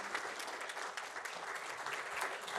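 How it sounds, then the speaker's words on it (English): An audience at a wellbeing event claps in sustained, dense applause, an even patter of many hands throughout, heard from a moderate distance. "Please give them a round of applause and the whole team"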